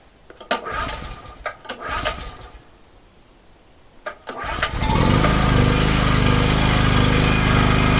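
A generator converted to run on gas cranks over with a few sputtering bursts, then catches and settles into a loud, steady drone that holds close to the microphone to the end.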